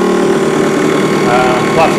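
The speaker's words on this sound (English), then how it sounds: "we're drawing about 12 amps, which is what this motor does, just free running on 24 volts" An electric motor free running on 24 volts while driving a generator gives a steady, close, mid-pitched hum with a faint whine, and a voice speaks over it.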